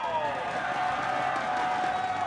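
Large arena crowd at a StarCraft 2 grand finals in Las Vegas, cheering and roaring in a steady, loud wash that holds for the whole stretch.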